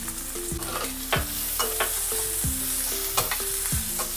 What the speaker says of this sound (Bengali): যে তেলটা দিয়ে ভেজেছিলাম সেই তেল দিতে পেঁয়াজগুলো ভেজে নিচ্ছি।